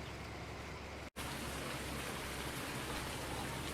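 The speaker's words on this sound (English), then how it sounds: "as you can see, it just started to rain." Steady rain hisses in Farming Simulator 19 on the Stone Valley map at night, a dense, even wash of falling drops that drops out for a moment before resuming unchanged.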